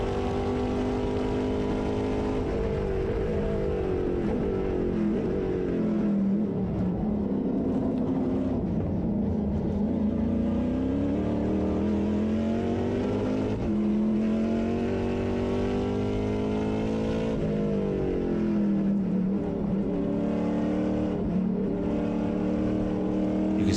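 Chevrolet Camaro Trans Am race cars racing at Portland International Raceway, a continuous loud engine drone with harmonic pitch sweeps as revs rise and fall through gears, sustained throughout.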